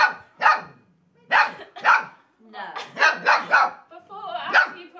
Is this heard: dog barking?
yes